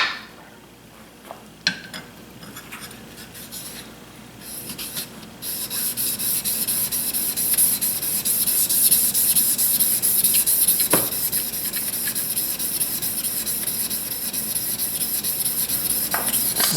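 The flat back of a jointer knife is rubbed across 150 grit sandpaper to remove a burr, making a steady, close-up rasping scrape that builds after a few light taps and continues without talk.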